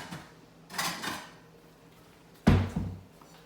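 A plate is taken out while making a grilled cheese sandwich in a home kitchen: two separate clattering bursts of a cupboard or drawer and dishware, close by, with quiet pauses between them.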